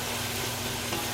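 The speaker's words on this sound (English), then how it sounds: "Let's combine it together. Saute all the ingredients." Ginger garlic paste and onion sizzle steadily in a pan while being sauteed and stirred, a dense, even frying hiss close by with no talking.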